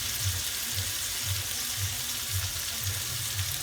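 Running tap water rushing steadily into a sink while carrots and potatoes are washed, a continuous hiss with soft rhythmic low thumps underneath, moderately faint and without talk.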